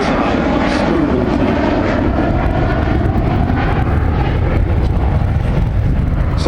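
An Avro Vulcan bomber flying a display at the Farnborough Air Show in 2014, its jet engines roaring loud and steady overhead in a broad, continuous rush of noise.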